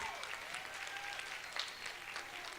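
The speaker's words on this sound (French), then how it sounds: "Philippe Fortin, mesdames et messieurs, on l'applaudit" Audience applause for performer Philippe Fortin at a French-language comedy show, a steady dense crowd clapping at moderate distance, fairly soft, with a few faint voices and whistles mixed in.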